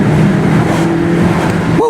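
A 2017 Mazda CX-5 GT with a 2.5 liter engine and front-wheel drive accelerates hard uphill, its engine a loud, close, steady droning hum from inside the cabin, ending with a quick rising whine.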